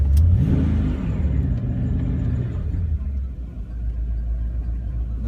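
A V8 engine swapped into a BMW E36 M3 runs close by with a deep, steady rumble, briefly revving at the start before settling to idle on a chilly day.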